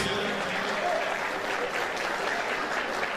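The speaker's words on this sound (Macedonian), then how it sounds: "Ве молам еден голем аплауз" A crowd breaks into loud, steady applause for the prime minister at a Roma gathering, a continuous dense clatter of clapping heard up close, with a voice faintly audible beneath it.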